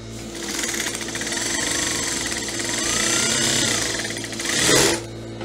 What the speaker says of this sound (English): guys, so we're going to start stitching now